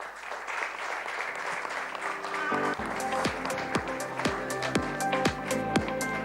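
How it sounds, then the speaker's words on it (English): Audience applause at an award ceremony at ITC Grand Chola, Chennai, steady clapping that swells and continues throughout under a tonal musical background with repeated struck notes. "please welcome them on the stage with a round of applause"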